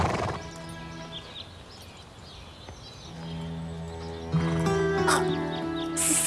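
A horse whinnies and its hooves sound amid other stable or farm noise, with tonal layers and a louder burst toward the end.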